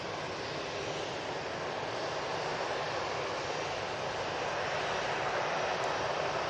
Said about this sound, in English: We do have the Air Tanker A330. That's come out.